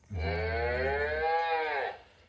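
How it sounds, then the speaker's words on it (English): A single long, loud cow moo from a Hasbro Playskool Alphie robot toy, close and clear, rising then fading over about two seconds. "The cow sounds like"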